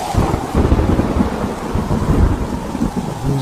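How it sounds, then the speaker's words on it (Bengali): A heavy thunderstorm with pouring rain lashes down in a steady, dense roar, deep rumbling thunder rolling underneath throughout, loud and close with no voices. "মনে হচ্ছে ঝড় বৃষ্টি বেড়েই চলছে"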